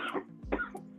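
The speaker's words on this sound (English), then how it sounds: "Why you coughing?" A single short cough with a throat-clearing quality, close and fairly quiet, over a faint low hum.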